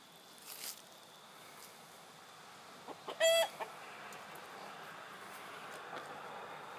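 A rooster gives a few scattered clucks with one short, louder call partway through, close by against a quiet outdoor background with no talking.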